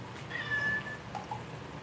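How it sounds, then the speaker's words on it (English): A pet cat gives a short meow, then a fainter second one, close by in a quiet workshop where a half mask is being molded in Ultracal. "You probably hear a cat."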